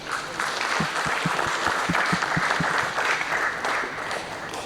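A large corporate leadership-session audience gives a sustained, dense round of applause as a group is called onto the stage, with steady clapping that keeps up its full level for the whole stretch.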